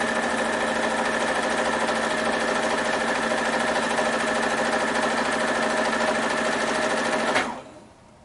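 A sewing machine runs continuously at high speed, stitching a baby quilt with a short stitch length, a close, even buzzing drone that cuts off abruptly near the end.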